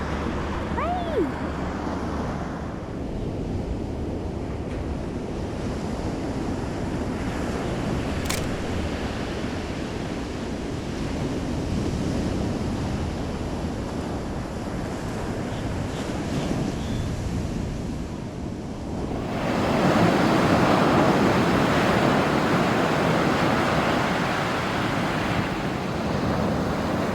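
Surf washes steadily onto a beach, a broad continuous roar with wind buffeting the microphone, swelling louder for the last several seconds as a wave breaks closer.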